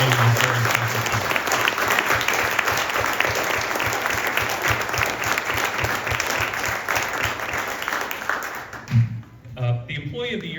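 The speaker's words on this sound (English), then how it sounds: "Please join me for a round of applause in celebrating this very special time." An audience at an employee awards ceremony breaks into loud, sustained applause. Dense clapping fills the whole stretch with faint crowd voices mixed in, then it thins near the end.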